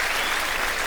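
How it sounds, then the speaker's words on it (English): At a live stand-up comedy show, a crowd bursts into dense, steady applause that fills the room for a brief moment. "I like the fact the girls from Dundee applauded that."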